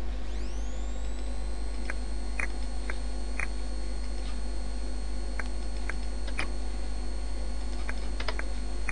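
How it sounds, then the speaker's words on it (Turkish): Computer keyboard keys clicking, including the Enter key, during drafting work: a series of sharp, isolated taps spaced irregularly over a steady faint electronic hum, close and fairly quiet. "Ve enter tuşuna basalım."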